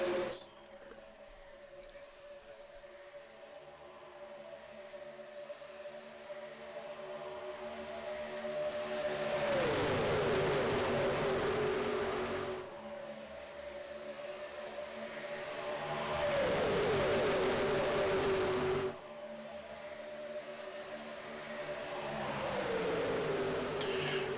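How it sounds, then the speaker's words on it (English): Gen 4 race cars roaring past at Daytona, several engine surges swelling and fading as each pack passes, with a steady droning engine tone in between; loud and without talk. "cars sound a little bit different here, different horsepower package with these Gen 4s. Honestly, I love the roar of them."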